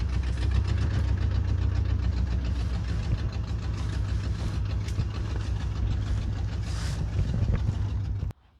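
A 1986 Mercury Grand Marquis Colony Park station wagon runs with a steady, close, loud engine idle and a faint knock, continuous for several seconds before cutting off abruptly at the end.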